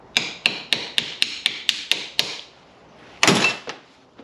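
A 3/8 socket taps a new crush ring into place on a diesel fuel system, about nine sharp, evenly spaced metallic taps, then a louder clank and a few softer knocks, close and alone.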